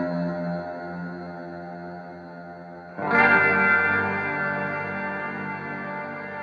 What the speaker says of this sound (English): We still get those big reverb trails.